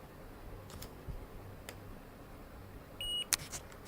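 A multimeter on continuity test beeps once, a short steady tone near the end, faint and alone over a quiet background with a few small clicks from the probes touching breadboard terminals.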